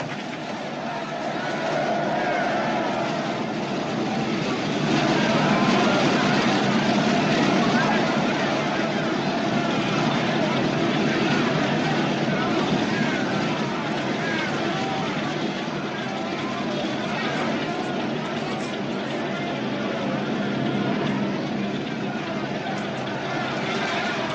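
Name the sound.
propeller aircraft engine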